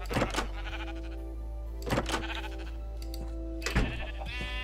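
Sheep in the video game Wondercraft bleat three times in a row, each a short, clear cry spaced about two seconds apart over a low, steady hum.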